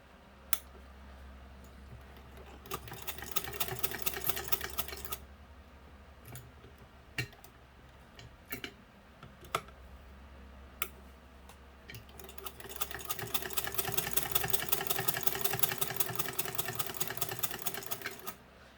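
A Singer 115 sewing machine with Tiffany decals, driven by a hand crank, stitches in two long runs of fast, even mechanical clatter, with sharp single clicks between them, close and unaccompanied by speech.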